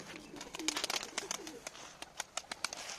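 Young tumbler pigeons flutter their wings in quick, soft bursts at close range, with low, faint cooing underneath at dusk, and no one speaking.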